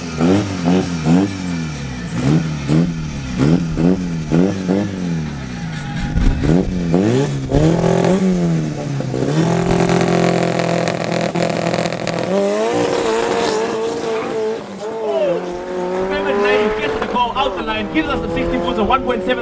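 Drag racing cars at the opening round of the South African Drag National Challenge at Midvaal Raceway rev and launch, engines climbing through repeated gear shifts and then roaring past down the strip, loud throughout, with an announcer talking over them.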